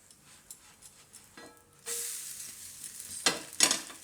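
Sabudana pudla pancake cooking in oil in a pan, a soft sizzle that swells after a quiet start, with a few sharper bursts of hiss and faint kitchen clatter, no talking.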